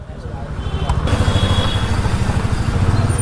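A motorcycle idles in a narrow lane, its engine putting in a steady, close, rhythmic throb throughout while someone talks over it.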